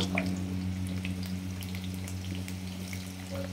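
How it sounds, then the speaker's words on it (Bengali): Potato pieces fry in hot oil with a soft, continuous crackle and sizzle under a steady low kitchen hum, close and fairly quiet. "প্রথমে আলুটা ভেজে নেব।"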